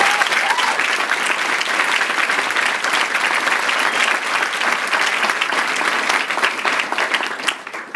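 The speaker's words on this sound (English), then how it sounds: "so we should give them a round of applause" A large audience applauds students at a City Year Milwaukee graduation ceremony, with dense, steady clapping that stays loud and even for the whole stretch, without any talk over it.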